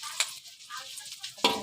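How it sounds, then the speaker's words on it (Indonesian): Potato and meat perkedel patties frying in oil give a faint, quiet sizzle broken by a few short crackling spurts. "Nah, sekarang kita selesaikan menggoreng perkedel ini sampai akhir ya."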